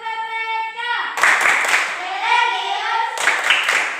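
Classroom of fourth-grade children clapping a rhythmic chant in sharp bursts, mixed with their chanting voices and a teacher's call.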